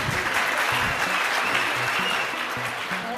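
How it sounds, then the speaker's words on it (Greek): An audience at an Oriflame directors' seminar in Ioannina gives a warm round of applause: steady, full clapping that carries on throughout and eases slightly near the end. "Ένα ζεστό χειροκρότημα για την Ελιζαβέτα."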